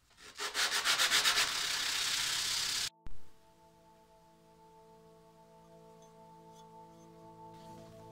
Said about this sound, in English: Now to sand it smooth.